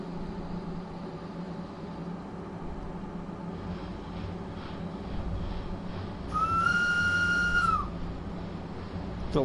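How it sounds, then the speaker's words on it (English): In Train Sim World 2, a German train sounds its whistle horn once, a loud, shrill tone lasting about a second and a half over a low cab rumble. "The loud ass weird whistle this thing's got."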